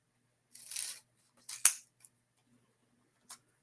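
Scissors snip through paper for a Halloween craft, with a few crisp cuts close by and a longer slicing stroke, separated by short pauses in an otherwise quiet room.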